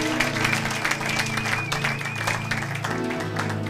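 A church congregation claps and cheers in praise of God, a steady wash of applause under music with sustained tones, with voices mingled into the crowd noise.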